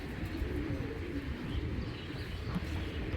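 A Giribaz pigeon coos in a low, muffled murmur that runs continuously through a dull, noisy background; no separate pecking taps stand out.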